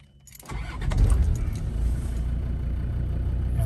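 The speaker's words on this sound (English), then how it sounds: "quick view of start up and idling on this Defender 110" A 2006 Land Rover Defender 110 TD5 diesel station wagon cranks briefly and fires, settling into a steady, rumbling idle heard up close with a faint jingle of keys.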